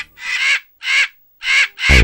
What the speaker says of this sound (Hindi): ओह वाकई ये तो कौवे हैं